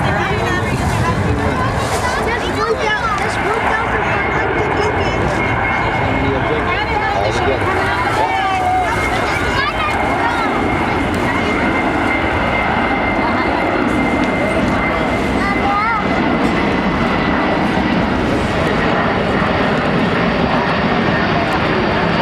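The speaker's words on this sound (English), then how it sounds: "practices large formation flights of this type to deliver a large number of paratroopers to the drop zone at one time" Military transport aircraft fly a large formation over a paratrooper drop zone, a loud continuous engine roar and drone filling the air, with crowd chatter and a voice talking throughout.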